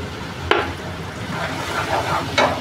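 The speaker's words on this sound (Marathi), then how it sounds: "चांगला परतून घेऊ हा मसाला।" Homemade red masala with turmeric is being sautéed in a pan for egg bhurji: a soft, steady frying hiss with two sharp spatula scrapes against the pan, quiet and close.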